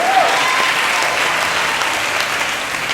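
A church congregation applauds loudly and steadily for the full length, a dense sustained wash of clapping with faint crowd murmur underneath.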